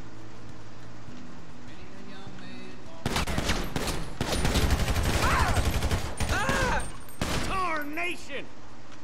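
Burst of gunfire during a police standoff in the FiveM roleplay video game, a rapid volley of loud shots after a quiet stretch, with tonal game sounds and voices around it.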